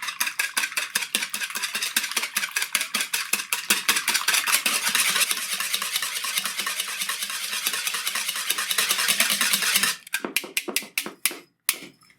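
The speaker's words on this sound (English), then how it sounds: "Give them a quick whisk." Two eggs whisked briskly in a bowl for coconut chocolate brownies, a fast regular clatter of whisk strokes against the bowl that runs for about ten seconds, then a few slower taps, close and loud.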